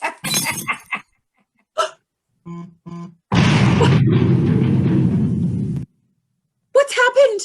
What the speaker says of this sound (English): I managed to pick up the grenade and throw it through the window to the court before it exploded